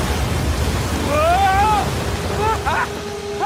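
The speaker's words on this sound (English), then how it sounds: "Waterfall! Waterfall!" Rushing waterfall in the video game Uncharted 4: a steady, broad roar of falling water that runs through the whole stretch, with voices and tonal sounds rising over it.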